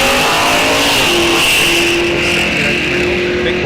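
A big-block Mustang drag car engine roars and revs hard at a drag strip, loud and close, a dense throaty blast with a rising whine, continuing without pause.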